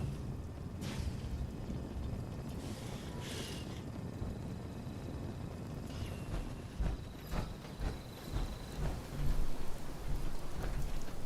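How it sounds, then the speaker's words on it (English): Rain in the video game Fallout 76 falls as a steady, dense hiss with scattered drip and patter accents and low rumbling swells near the end, with no voices. "Still getting rained on, and I went deeper in the building and there ain't a hole in the roof."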